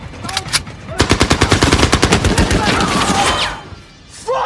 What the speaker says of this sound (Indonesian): Aksi Norman yang mampu menembak mati kapten musuh itu pun akhirnya mendapatkan pujian dari rekan-rekan lainnya